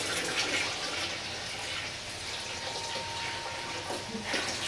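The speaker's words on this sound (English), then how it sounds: "Now I'm gonna top it off with cold water." Cold tap water running steadily into a wine carboy while topping it off for a Pinot Grigio batch, a continuous moderate rush and splash with no talking.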